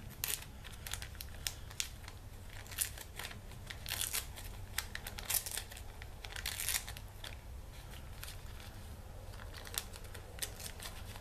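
Rice paper handled during a craft session on a Maggie Holmes Marigold master board, giving faint, close crinkles and soft rustling ticks over a low steady hum.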